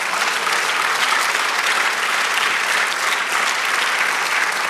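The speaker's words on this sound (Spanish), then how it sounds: "Dale un aplauso a nuestro Dios" A church congregation applauding during a sermon by Pastor Vicente Ortíz, with thick, sustained clapping from many hands filling the hall at a constant, loud level throughout.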